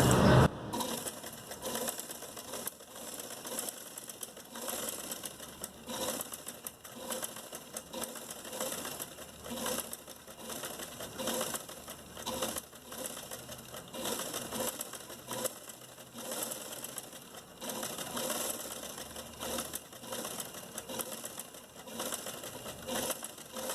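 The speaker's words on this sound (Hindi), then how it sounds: "थोड़ा सा कपड़ा छोड़ के हम बड़े नंबर की सीधी सिलाई करेंगे।" Sewing machine running long straight stitches along a piece of cloth, a steady fast mechanical rattle of the needle that carries on evenly and close up, with no talking over it.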